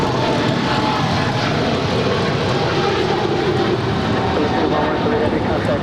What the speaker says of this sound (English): That is Philippine Airlines Flight 113 departing to Manila to 777-300 ER Mabuhay.